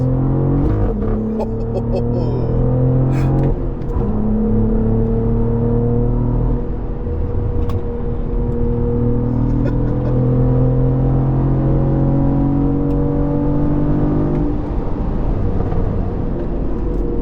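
A Cadillac CT4-V Blackwing with a manual gearbox drones from inside the cabin while driving, its engine note rising steadily through the revs, dropping sharply at a gear change and climbing again, loud and close with no talk.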